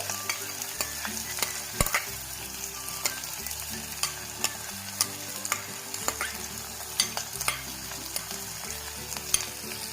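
Thinly sliced onion fries for beetroot curry, a continuous close sizzle broken by regular sharp clicks of a spatula against the pan as it is stirred, with no talking.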